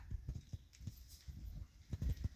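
A Baroque horse ridden in a lesson clip-clops with steady, soft hoofbeats in a regular rhythm, fairly quiet and heard alone.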